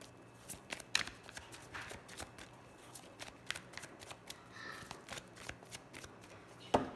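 A deck of cards being shuffled nearby, with soft, quick riffles and taps repeating through the moment amid faint room noise.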